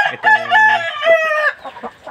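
Close, loud Aseel chickens: a rooster's harmonic crow runs for about a second and a half, mixed with clucks, then trails off into a few softer clucking notes, with no voices.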